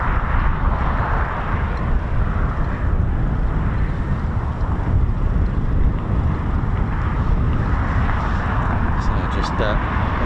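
Steady, loud wind buffets an outdoor microphone at RAF Coningsby as a constant broad rumble with no gaps, and a voice is faintly present beneath it.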